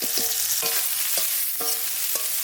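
Chopped onion hits hot oil with cumin seeds and green chillies, a steady close sizzle broken by a few sharp stirring scrapes at regular intervals, no voices.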